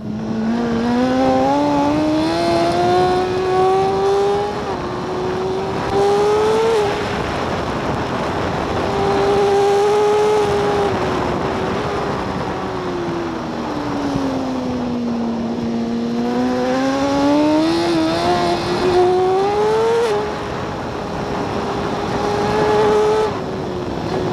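Racing machine on the Portimão circuit, its engine note rising and falling through acceleration, shifts and corners, loud and continuous with a high whining pitch sweeping up and down over the lap.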